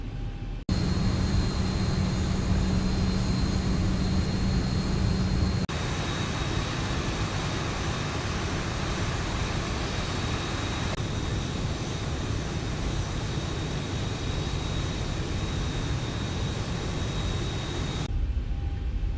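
Boeing 737 jet engines in the X-Plane 11 flight simulator, taxiing toward the runway, giving a steady, loud, continuous whine and rumble that shifts slightly in pitch partway through.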